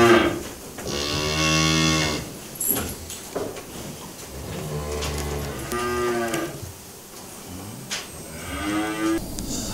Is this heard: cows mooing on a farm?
yes